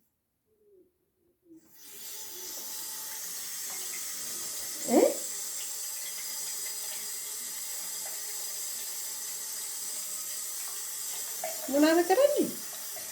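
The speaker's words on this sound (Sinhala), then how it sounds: "වතුර වැටෙනවා බලනවද?" Water runs steadily from a tap after a quiet start, a continuous hiss close by, with a voice speaking briefly over it twice.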